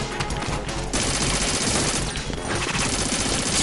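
Sustained gunfire in Metal Gear Solid 2, a dense, loud burst of shots aimed at overhead lights, continuous across the whole stretch with only a brief dip near the start.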